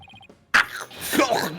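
A sharp, sudden sneeze bursts out after a short tonal jingle in the video game Ace Attorney: Dual Destinies, followed by a voice speaking loudly, all with a synthetic game-like quality.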